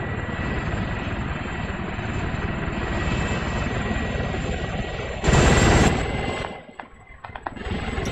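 Helicopter in the military video game ARMA 3: a steady, dense rotor and engine drone runs throughout, with a brief louder burst near the end before the drone thins out.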